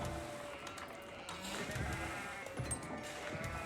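Sheep bleat in the Age of Empires 4 video game, with several soft bleats over quiet in-game ambience.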